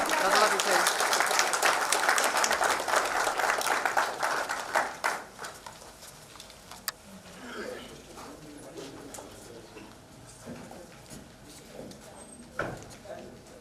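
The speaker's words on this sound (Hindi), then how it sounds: "साथियों जोर से और जोर से ताली बजाकर उनका स्वागत किया जाए।" Audience applause welcoming the chief guest at the International Mithila Mahotsav in Ahmedabad, 2019: dense clapping loud for about five seconds, then fading into scattered claps and room noise, with some speech around it.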